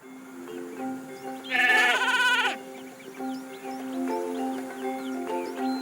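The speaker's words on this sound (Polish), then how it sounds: "To tylko owce." A sheep bleats once in a wavering, nasal call over a steady synthetic musical backdrop with soft tonal chimes, in the video game Skylanders: Spyro's Adventure.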